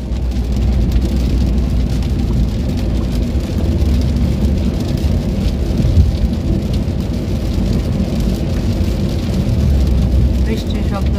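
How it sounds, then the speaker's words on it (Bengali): Heavy rain pours steadily during a thunderstorm in Sylhet, a dense continuous roar with deep low rumbling underneath, close and loud throughout. "বৃষ্টির শব্দটা সুন্দর না?"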